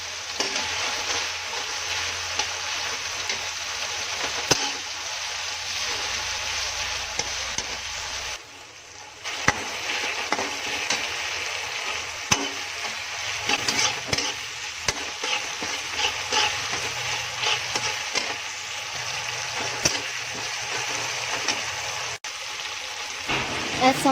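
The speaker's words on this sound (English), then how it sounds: "After frying tomato for some time, I'll be adding green chilies." Tomatoes and green chilies fry in a pan with a steady sizzle and occasional stirring scrapes, continuous and fairly close throughout.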